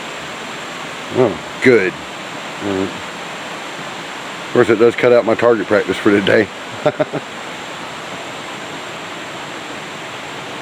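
A waterfall in the Jones Gap woods roars in a constant, close, broadband rush throughout, with someone talking in short bursts over it.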